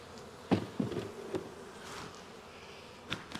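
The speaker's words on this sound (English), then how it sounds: "A lot of bees up here." Honey bees buzz around an open hive during a June honey harvest, a faint steady hum with a few sharp knocks and thumps from hive work.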